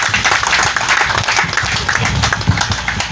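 Crowd clapping for Jesus at a church ministry outreach event feeding elderly people, loud rhythmic group applause close by, continuous with some individual sharp claps standing out.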